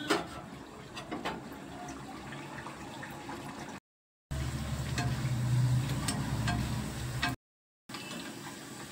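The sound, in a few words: naan puri dropped into hot oil, frying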